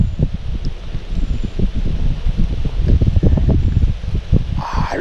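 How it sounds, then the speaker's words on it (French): Wind gusts buffet the microphone beside the Avance river in Lot-et-Garonne, a steady low rumbling roar with fluttering surges lasting the whole stretch, with no other sound standing out. "Ah, le vent, ça y est."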